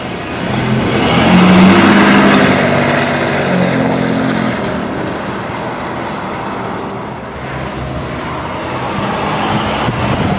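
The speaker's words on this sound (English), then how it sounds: "That exhaust note sounds more like an EcoBoost." A 2022 Ford Raptor prototype, a supercharged 5.2L V8 pickup, drives past with a steady, loud, broadband engine and exhaust drone that swells early and then holds at a constant level.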